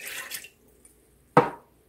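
White vinegar poured for Instant Pot teriyaki chicken gives a single short, close splash of liquid after a moment of near silence, preceded by a softer trickle.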